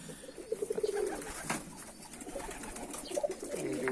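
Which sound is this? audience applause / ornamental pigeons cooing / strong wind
ornamental pigeons cooing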